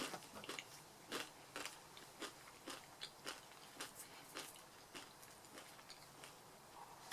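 Tortilla chips from Chipotle crunched during a meal, a quiet, close series of sharp bites and chews repeating steadily at an uneven rhythm with no talk.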